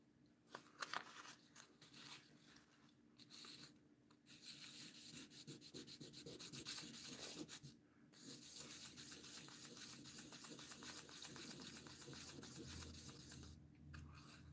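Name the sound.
hand sanding a knife with 1500 grit sandpaper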